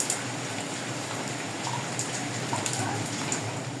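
Heavy rain falling steadily on a rainy day, a dense, even hiss of drops striking surfaces that holds at a constant level throughout, with no voices.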